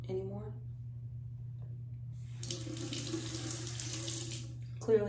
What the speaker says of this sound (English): Alright, I'm gonna rinse it off now because I don't want it on anymore.